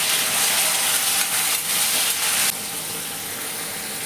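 Onions and green chillies frying in hot oil with cloves and cumin for a prawn curry, a steady loud sizzle that drops to a softer, even hiss partway through.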